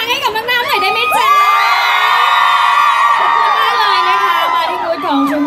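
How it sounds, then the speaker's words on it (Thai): A large crowd at a dance competition screams and cheers loudly with high-pitched shrieks and whoops, sustained for several seconds before fading slightly. "ขอเสียงกรี๊ด"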